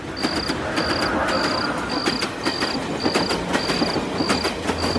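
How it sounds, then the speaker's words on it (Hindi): A train passes in the distance beyond a stretch of trees near the track at night, a faint low rumble under a steady, loud chorus of rhythmic insect chirps that pulses throughout. "तभी दूर से ट्रेन की आवाज सुनाई दी"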